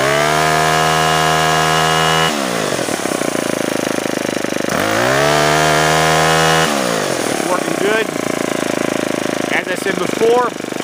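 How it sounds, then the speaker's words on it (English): A Ryobi S430 gas string trimmer engine is revved on the throttle. It climbs to a loud, buzzing high-rpm whine, holds there, then drops back to a rough idle, twice over, up close. "Always want to push down on the safety feature right here and give it some gas."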